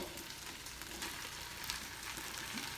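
Ground beef and sausage mixture sizzles steadily in a multi-cooker on saute mode, a dense, continuous frying crackle with small pops, close and alone without speech.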